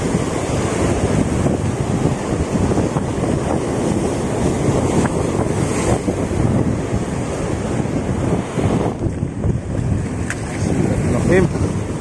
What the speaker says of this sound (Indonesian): anginnya banter